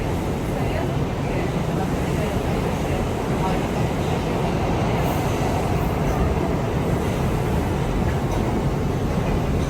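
R179 subway train on the Queensbound F line in New York, a loud constant rumble and roar of the car in motion, steady broadband noise from start to end with no talk over it.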